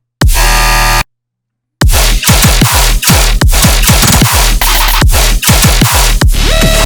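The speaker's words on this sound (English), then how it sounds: "Without the high bass, it sounds like this." A heavy dubstep drop stripped of its high bass layer hits hard after a short burst and a sudden gap, with punchy, loud rhythmic bass stabs and dense hits driving on alone.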